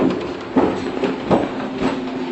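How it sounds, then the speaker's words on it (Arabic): A train rumbles along steadily with a low hum and periodic rhythmic clunks of wheels over rail joints, heard from inside an empty train in Iraq. "سمعتوا يمشي القطار"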